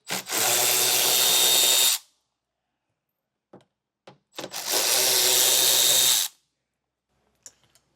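A power tool runs in two separate bursts of about two seconds each while removing two 10mm bolts from a 2024 Ford truck, with light clicks and handling noises between the bursts.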